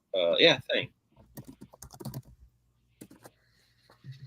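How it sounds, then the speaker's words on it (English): Quick, uneven clicks of keys being struck furiously on a computer keyboard, faint and sparse after a brief burst of a nearby voice at the start. "As Travis is furiously typing away."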